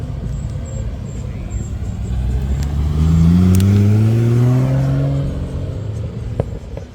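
A Nissan Skyline R33 engine rumbles, then revs up with a rising roar that holds and fades, heard from nearby outdoors.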